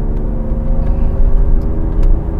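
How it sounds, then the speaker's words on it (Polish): A white Subaru Forester Turbo gives off a steady, close engine hum and road rumble, an even mechanical drone with a few faint ticks over it and no voices. "O, Subaru Turbo Forester."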